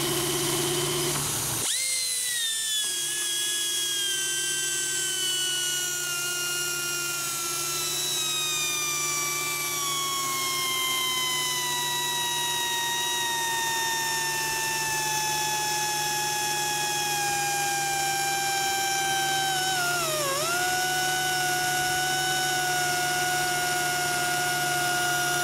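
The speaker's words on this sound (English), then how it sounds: "I'm gonna fire up the die grinder." A pneumatic die grinder spins up hard and whines steadily off an onboard air compressor, its high pitch slowly sagging as pressure drops, with a brief dip near the end, loud and close with no talk.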